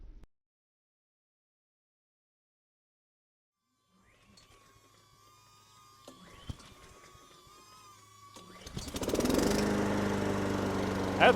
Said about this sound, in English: Mow the lawn.